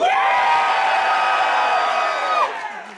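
A convention audience in Birmingham screams and cheers in one loud, sustained roar that holds for more than two seconds and then fades quickly.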